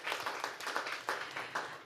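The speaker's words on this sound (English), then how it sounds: "A round of applause for them." A room full of conference attendees claps together in a broad, steady wash of applause with a few stronger surges, sustained and fairly close, with no talk over it.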